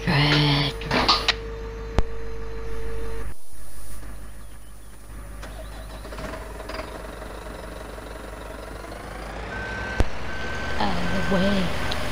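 Truck reversing beeps from Farming Simulator 17 while hauling equipment to a logging site, a steady repeating electronic beep over a low engine drone, with someone talking over parts of it.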